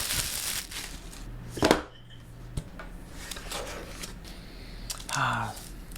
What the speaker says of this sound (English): for Apple products, you don't need scissors because they always have pull tabs for you to do an easy unboxing